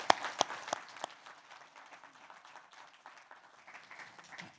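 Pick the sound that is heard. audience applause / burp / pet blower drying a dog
audience applause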